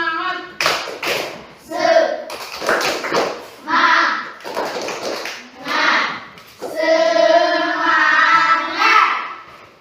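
A fourth-grade classroom of children performs a rhythmic spirit clap, with bursts of patterned hand claps mixed with loud group chanting voices, ending in a longer sustained shout.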